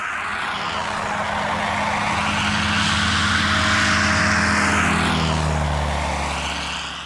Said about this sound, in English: the roar of plane engines